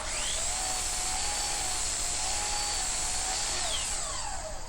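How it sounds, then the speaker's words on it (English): A drill whines steadily while boring pocket holes through 2x4 pieces with a vintage Kreg K2000 pocket hole jig, the high motor pitch rising and falling slightly, close and loud with no talking. "I got out my vintage Kreg K2000 pocket hole jig and drilled 2 holes on either end of the short side pieces"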